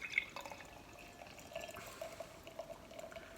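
Dark East India Porter is poured into a glass, giving a soft, steady liquid trickle with faint dripping, quiet and close, with no talking.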